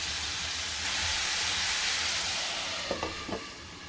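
Prawn masala cooking under a lid gives a steady, fairly loud broadband hiss and sizzle, with a couple of short clinking knocks near the end.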